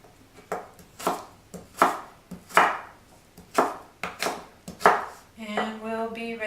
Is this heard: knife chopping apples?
yes